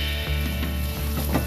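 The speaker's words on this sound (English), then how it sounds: "And let's put our ground beef. Completely cook it." Ground beef sizzles and fries in a pan for a stir fry with bean sprouts, a steady crackling hiss with small pops and stirring scrapes, close and fairly loud, no talking.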